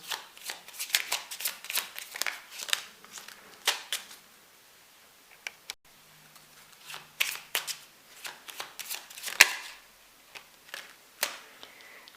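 A deck of cards being shuffled up close, crisp riffling bursts and soft slaps in uneven clusters with brief pauses, with no talking.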